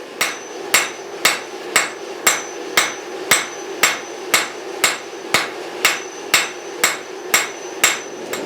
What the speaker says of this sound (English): After a few heats with the cross peen and then kind of flattening things up with the face of my hammer